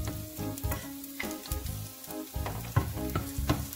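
Pancit canton noodles sizzle and fry in a pan while being stirred, with a rhythmic series of scraping, clattering strokes over a constant crackle, close and fairly loud.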